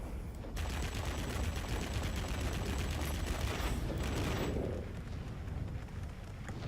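Aircraft cannons on the P.1096 jet in World of Warplanes fire a rapid, loud stream of rounds for several seconds, then cut off and leave fainter engine noise.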